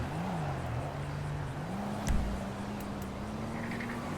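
A personal car in GTA Online, requested from the Mobile Operations Center, rolls up with a steady engine hum whose pitch dips and climbs. There is a short thump partway through, and no one speaks.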